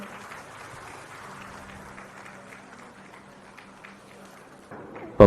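Audience applause at a Kerala Vision event in the Taj Vivanta hotel in Kochi, a soft, distant patter of clapping that holds steady at low level and ends with a sudden loud bump.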